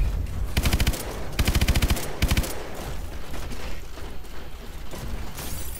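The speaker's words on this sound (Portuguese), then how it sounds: "E tem que ser na metralhadora." Machine gun fire from the Call of Duty: Advanced Warfare video game rips out in three loud, rapid bursts, followed by rumbling game noise and mechanical clatter.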